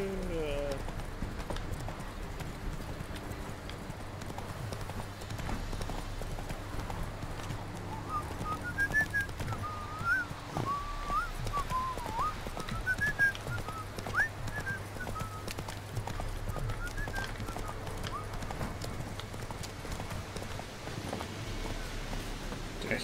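Hooves clip-clop steadily from a horse galloping in Witcher 3: Wild Hunt, a fairly close rhythmic beat that runs the whole time beneath game music and occasional voices.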